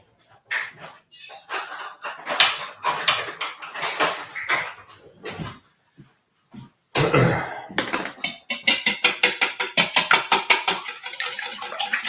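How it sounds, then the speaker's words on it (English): Whisk clattering rapidly against a bowl while mixing muffin batter liquids, bursts of metallic tapping that pause briefly and then resume in a fast, even rhythm close up. "Let's just give that a whisk"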